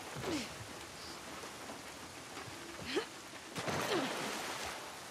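Steady, fairly quiet rain falling in the game The Last of Us Part 2, a soft even hiss with a few brief chirping tones rising above it.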